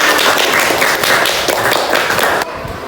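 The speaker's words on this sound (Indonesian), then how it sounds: "Tepuk tangan dulu untuk semuanya" Schoolchildren in a classroom clap their hands together, a dense, loud burst of overlapping claps with a few rhythmic pulses, lasting a couple of seconds before cutting off abruptly.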